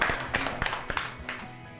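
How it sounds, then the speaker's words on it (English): A class claps hands in an irregular burst of separate, fairly faint claps that thin out toward the end, with a faint murmur of voices underneath. "let's give you a clap because you've done really well"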